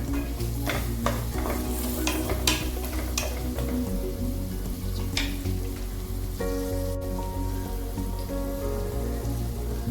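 Whole cashews frying in ghee on a medium flame crackle and sizzle steadily up close, with several sharp spatula taps and stirs early on, and no voices.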